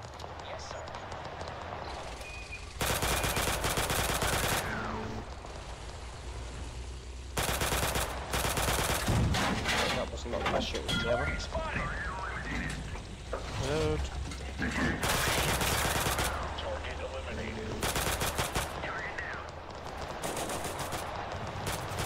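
Gunfire from shotguns and other weapons in the video game Total Conflict: Resistance, with repeated bursts of loud, dense shooting separated by calmer stretches, while players talk over the action.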